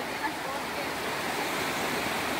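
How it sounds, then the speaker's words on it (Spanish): A river running higher than usual rushes in a steady broadband wash, continuous and fairly near, with no voices over it. "Hoy el río va un poco más grande de lo normal."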